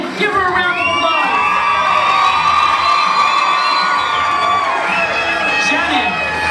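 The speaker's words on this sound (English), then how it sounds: "Give her a round of applause." A boxing crowd roars for the winner of a professional bout decided by the judges, loud sustained cheering with high shouts and whoops rising and falling over the whole stretch.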